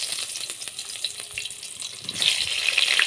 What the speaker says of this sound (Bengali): এখন একইভাবে পটলগুলো দিয়ে ভেজে নেব।